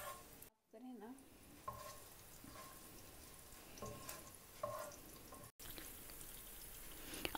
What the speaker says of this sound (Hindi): ज़ीरा डालने के बाद इसमें हम ग्रीन चिली डालेंगे जो कि मैंने दो सब्ज़ मिर्च बारीक काटी हैं और इसको एक से दो मिनट इसमें फ्राई करेंगे